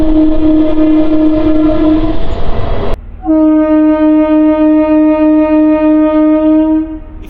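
A MEMU passenger train on the Nidadavolu–Bhimavaram line sounds its horn loudly and close by: one blast of about two seconds, a short break, then a long, sustained blast lasting nearly four seconds over the rumble of the running train.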